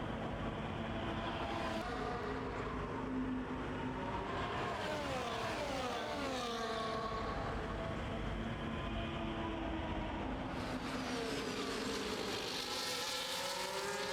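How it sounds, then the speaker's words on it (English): Race cars roaring past on a Mexico circuit, a continuous dense engine drone with rising and falling pitch sweeps as several cars battle close together. "Bit of a racing here between these four cars."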